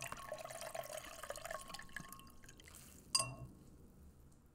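Water trickles and splashes softly during a men's shave and facial wash-down, a quiet running wash that fades, then a single bright drip or clink near the end, with no talk.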